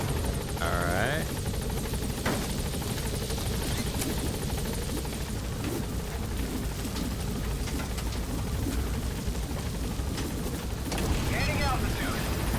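A helicopter in Metal Gear Solid V whirs steadily and loudly throughout, its rotor drone constant while brief radio voices and chirps play over it.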